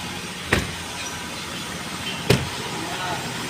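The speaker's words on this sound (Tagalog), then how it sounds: "So, gumagana ang ating fan." The air conditioning fan of a Chery Tiggo 7 Pro with an A/C that isn't blowing cold gives a steady airy whoosh, close and constant, broken by two brief knocks.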